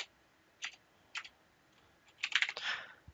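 Keys clatter on a computer keyboard as a command is typed at a prompt, a few isolated taps followed by a quick burst of keystrokes, close and clear against a quiet background with no talking.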